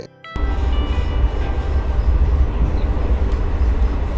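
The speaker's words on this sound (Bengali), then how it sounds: "যখন ওই দিক থেকে যখন ট্রেন আসছে তখন আমাদেরকে অপেক্ষা করতে হচ্ছে" A train passes on a single-line railway between Banihal and Srinagar in Kashmir, a loud, close, continuous rolling rumble that starts abruptly and holds steady throughout.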